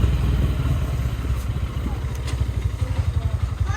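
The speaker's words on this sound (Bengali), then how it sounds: "500 সিসির বাইক চালাইতেছে ইসমাইল।" A 500cc motorcycle engine rumbles steadily up close during a race with another rider, its low throbbing pulse turning choppier and more rhythmic toward the end as a voice talks over it.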